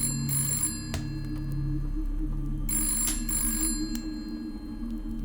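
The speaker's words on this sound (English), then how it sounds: "Then the phone rang." A telephone in a late-night radio studio rings in two separate bursts of rapid electronic trilling over a steady low hum, with no voices.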